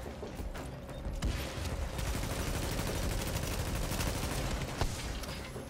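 Sustained automatic turret gunfire in Tom Clancy's The Division, a dense, steady rattle of rapid shots at close range filling the whole stretch with few breaks.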